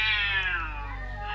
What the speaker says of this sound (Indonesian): Cuman kucing berantem rebutan wilayah